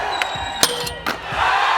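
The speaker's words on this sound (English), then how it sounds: "Crowd's going nuts." A crowd at a skateboarding contest in Salt Lake City cheers and yells in short loud bursts, with sharp clattering impacts mixed in and a rising roar at the end.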